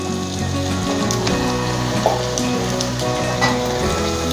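Ginger garlic paste and turmeric fry with onions in a pan, a steady close sizzle and crackle throughout with a few stirring scrapes.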